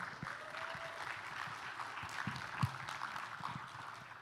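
A conference audience at an ASEAN sustainable energy financing event gives a warm-up round of applause, a moderate, fairly even patter of clapping from a seated crowd, somewhat distant in a large room.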